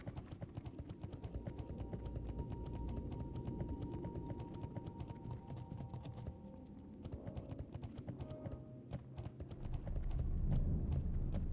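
Horse hooves clip-clop steadily and slightly unevenly as a mount trots along in World of Warcraft: Cataclysm, a continuous rapid patter of game footsteps at moderate volume with no speech.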